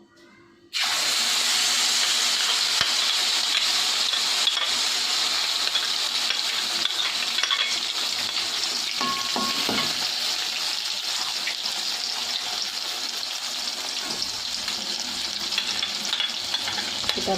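Ground garlic and shallots sautéing in a pan for a Palembang tekwan base, a loud continuous sizzle that bursts in suddenly after a moment of quiet and keeps going with occasional stirring scrapes, no talking.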